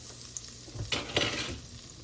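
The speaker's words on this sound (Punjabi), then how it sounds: "ਹੁਣ ਪਾਵਾਂਗੇ ਆਪਾਂ ਬਟਰ ਤੇ ਬਟਰ ਦੇ ਵਿੱਚ ਪਾਵਾਂਗੇ ਆਪਾਂ ਥੋੜਾ ਜਿਹਾ ਜੀਰਾ" Cumin seeds hit melted butter in a pan for a creamy garlic mushroom dish, a soft hiss rising into a brief bright sizzle with light stirring clinks, close and quiet.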